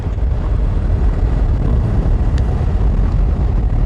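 Honda NC750X motorcycle with a Euro 5 exhaust, giving a muffled, soft and steady low engine drone that stays fairly loud and even throughout, mixed with some wind rush.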